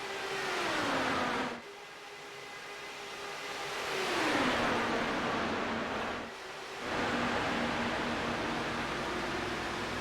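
IndyCar race cars at Texas in a racing video game roar past one after another, each high engine whine sweeping down in pitch as it passes close by, over a steady wash of track noise.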